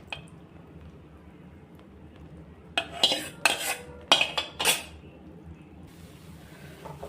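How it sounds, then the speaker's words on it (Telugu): Mysore pak mixture being stirred in a pan as ghee is added: quiet at first, then a cluster of close, sharp metal scrapes and knocks of a spoon against the pan lasting a couple of seconds. "ఇలా కొంచెం నెయ్యి వేస్తూ కలిపేసుకోండి"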